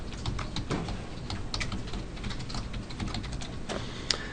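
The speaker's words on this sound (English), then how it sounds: "And then you type in your password, but the cursor will not move when you type in your password." Password being typed on a computer keyboard, a quiet run of quick, uneven key clicks at close range with no talking.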